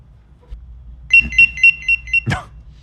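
A pager beeps in a quick run of five short, evenly spaced high electronic tones, clear and close, followed by a brief rustle or clunk, with no talk over it.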